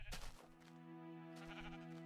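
A sheep in a video game bleats once, a short, faint synthetic bleat near the start, followed by a quiet steady tonal hum.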